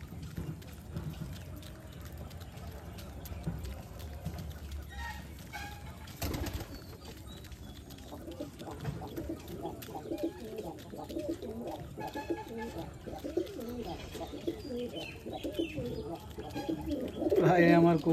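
Black homer racing pigeons coo softly at a pigeon farm in Bangladesh, with repeated low throaty calls, some chirps and a brief wing flap over quiet background and someone talking.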